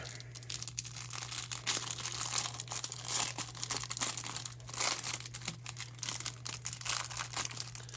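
Plastic cello packs of 1989 Topps baseball cards being opened up close, with steady crinkling and crackling wrapper noise running through the whole stretch and no talking.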